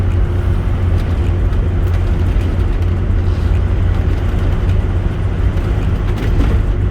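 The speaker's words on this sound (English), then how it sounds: "I'll let you listen to the car." Loud, steady engine drone and road rumble heard from inside a moving 1969 Pontiac Firebird convertible, a continuous low roar throughout.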